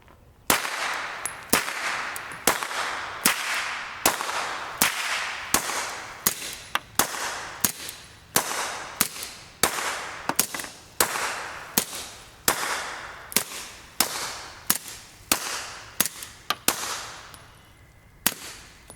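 A Maxim 9 integrally suppressed pistol with two baffles removed fires a long string of about two dozen evenly spaced shots, starting with supersonic rounds and then heavier subsonic loads, each a loud, sharp crack with a brief ringing decay.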